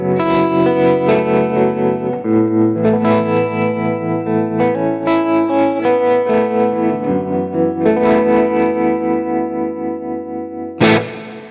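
Electric guitar chords run through an Axe-Fx II preset with tremolo and a big, expansive reverb, pulsing steadily through a sequence of sustained chord changes before a final strum rings out.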